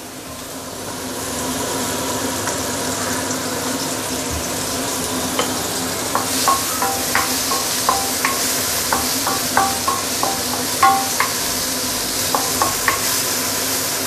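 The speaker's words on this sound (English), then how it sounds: "I'm going to slowly saute this for a minute or two" Chili frying in oil in a pan for Muar Chinese-style assam fish, with a steady loud sizzle throughout and a run of sharp spatters and pops building from the middle onward, no voices.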